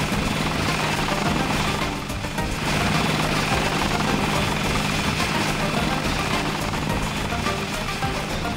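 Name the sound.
helicopter in video game Deus Ex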